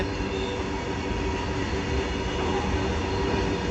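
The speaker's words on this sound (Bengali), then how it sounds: "কত বড় মালগাড়ি যাচ্ছে। এই দেখো যাচ্ছে কীরকম ভাবে, আস্তে আস্তে যাচ্ছে।" A long goods train rolls slowly past near the line between Kharagpur and Howrah, a steady close rumble of wagons and wheels filling the whole stretch without a break, with faint rail squeal over it.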